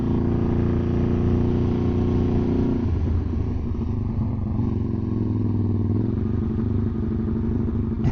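A Honda Grom motorcycle fitted with a swapped Ducati 1199cc engine revs and rumbles loudly and continuously, close by, its pitch dropping partway through as the throttle eases, with no talk.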